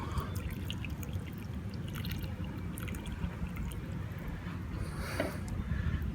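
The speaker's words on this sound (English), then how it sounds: "I'll add in some more water." Water poured onto gritty succulent soil mix and draining quickly through it, a steady wet rushing and trickling with scattered soft drips, close by and continuous, with no talking.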